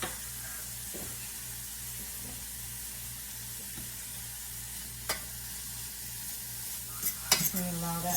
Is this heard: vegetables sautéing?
yes